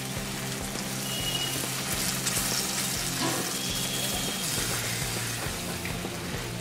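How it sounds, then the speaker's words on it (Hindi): Water poured into hot masala frying in oil for a Punjabi dum aloo gravy makes a steady, close, splashing sizzle with a bubbling hiss that holds evenly throughout. "बनाने के लिए थोड़ा पानी डालेंगे।"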